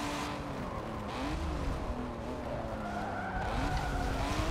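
A race car in Forza Motorsport 7 skids off the road with sliding tire squeal over a steady engine drone, continuous and fairly quiet with no talk.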